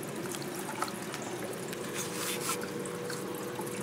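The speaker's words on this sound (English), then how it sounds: "I do have a little bit too high water flow" Water flows steadily over a homemade Miller table used for recovering fine gold in a yard, making a continuous trickling, dripping wash with no break and no talk.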